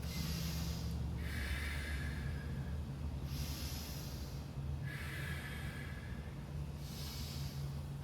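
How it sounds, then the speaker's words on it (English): A person takes slow, deep breaths in a yoga session, with airy inhales through the nose and long exhales through the mouth repeating in a regular cycle over a low steady background hum. "hold 5 deep breaths in through your nose, out through your mouth"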